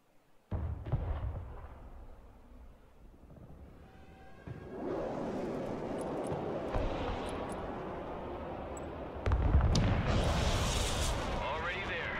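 Rocket artillery barrage in the video game Broken Arrow, a sudden burst followed by sustained rumbling explosions and whooshes that swell louder toward the end, with someone talking over it.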